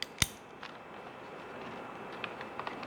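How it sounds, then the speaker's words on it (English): Scissors snip a plastic tag off a Worx HydroShot 40V portable cleaner, one sharp close cut followed by a few faint small clicks and rustles. "And we'll just cut this little guy off."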